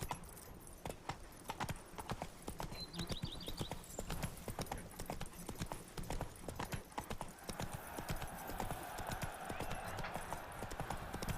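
Roach, Geralt's horse in The Witcher 3, gallops steadily with a fast, even clip-clop of hooves that runs the whole way through, backed by game ambience, with a brief whinny and a light voice now and then.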